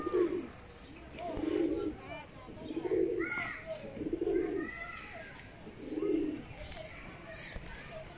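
Pigeons coo in repeated low, throaty phrases about once a second, close by, with brief chirps in between; soft wing flaps from birds taking off and landing can be heard faintly.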